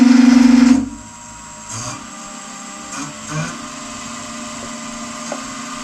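A wood lathe hums loudly for a moment and then spins down to a quieter steady drone, with a few soft knocks and scrapes from the workpiece over the running motor.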